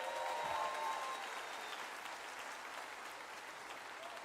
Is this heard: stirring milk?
no